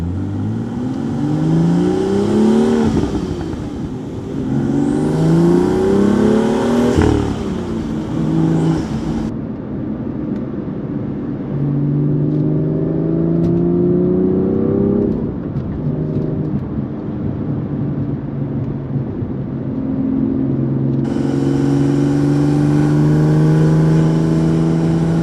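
A BMW M2 drives and revs, its engine note climbing in repeated sweeps of acceleration, then dropping and holding steadier cruising tones before rising again, loud and close throughout with no talking.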